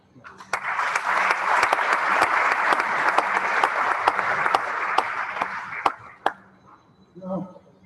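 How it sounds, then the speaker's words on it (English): Audience applause for laboratory scientists at a cancer medical school event: a dense, steady round of clapping that fills most of the clip, thins out near the end and leaves a few scattered claps. "Please join me in giving all of them a round of applause."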